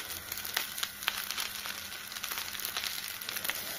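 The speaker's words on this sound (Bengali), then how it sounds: "আর দেখো ভাজা প্রায় হয়ে এসেছে" Pasta with spices fries in a pan, a faint continuous sizzle broken by small irregular crackles and scraping ticks, with no voices.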